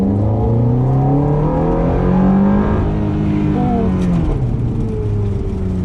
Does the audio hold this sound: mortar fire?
no